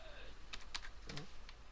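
Typing on a computer keyboard at a router login, a handful of quick, faint key clicks in a short irregular burst over a low room hum.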